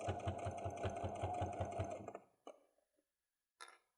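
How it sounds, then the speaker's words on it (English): A sewing machine stitches steadily along the edge of a fabric pouch in a rapid, even mechanical chatter for about two seconds, then stops, followed by a couple of brief clicks of handling. "And we're just sewing along the edge."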